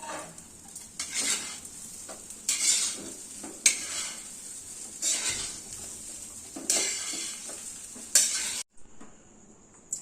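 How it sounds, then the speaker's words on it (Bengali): Leftover biryani is stirred while it reheats in a kadai: a spatula scrapes and clatters against the metal at irregular intervals over a low sizzle, with a few louder clanks and a brief silence near the end. "এই যে বিরিয়ানিটা আমি কড়াইতে একটু গরম করে নেব"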